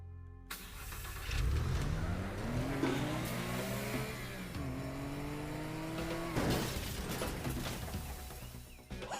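In a video game, a car engine starts and revs loudly up close, then pulls away with rising pitch through gear shifts, and a sharp crashing impact near the end cuts through the engine drone.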